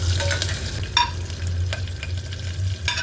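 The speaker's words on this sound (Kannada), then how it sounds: "ಹಾಗೆ ಸ್ವಲ್ಪ ಗೋಡಂಬಿ, ಹೋಲ್ ಮಸಾಲ ಎಲ್ಲ ಹಾಕ್ಬಿಟ್ಟು ಸ್ವಲ್ಪ ಕೈ ಆಡಿಸೋಣ" Cashews and whole spices fry in oil for green peas pulao, a continuous sizzle broken by several sharp spoon scrapes and clinks as they are stirred close by.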